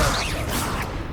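Spell effects in Hogwarts Legacy burst out as one dense, loud rushing whoosh with a crashing impact, filling the short moment with bright noisy energy and no voices.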